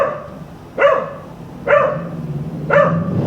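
Dog on a street in Denpasar giving three loud, close barks, spaced roughly a second apart, over quiet street background with no talking.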